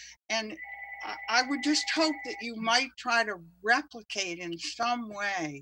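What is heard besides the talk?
telephone ringing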